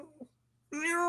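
A house cat gives a single clear, fairly loud meow near the end, following a brief soft vocal sound and a moment of quiet.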